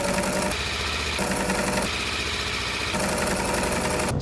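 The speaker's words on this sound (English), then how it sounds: "It has this consistent tick, tick, tick, tick, tick sound" A Honda Rebel 500 parallel-twin engine idles with a steady, rapid mechanical ticking, close and continuous, like a sewing machine, with no talk over it.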